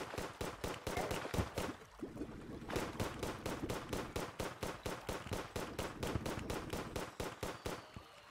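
Rapid, relentless gunfire from Terraria combat, a dense run of sharp shots fired in steady bursts with only a brief pause partway through, loud and close throughout.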